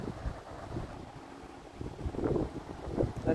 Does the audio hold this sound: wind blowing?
yes